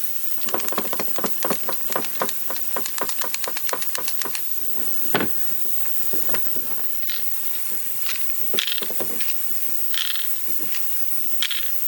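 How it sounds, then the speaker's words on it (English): A broken RotoZip Revolution spiral saw with loose ball bearings inside is shaken, producing a quick series of close, sharp rattling clicks that slow into scattered knocks and clatters against a faint hiss. "Sounds like there's a wad of ball bearings in there just wandering around."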